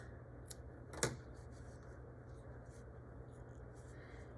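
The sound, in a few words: trimming the yarn end after crocheting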